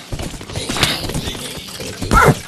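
A horse in the video game Minecraft gives off clopping hoof sounds amid other game noise, ending in a short, louder tonal burst like a whinny.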